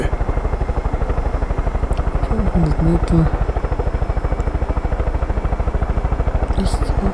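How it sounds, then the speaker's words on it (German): A helicopter flies in the video game Far Cry 5, its rotor beating in a loud, rapid, steady chop throughout while a voice briefly speaks over it. "Ich hab meine Hubschrauber."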